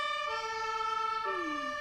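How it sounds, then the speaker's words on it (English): An ambulance siren wails loud and steady with a rich, even tone, then drops sharply in pitch near the end as the vehicle passes by. "Oh, we got an ambulance."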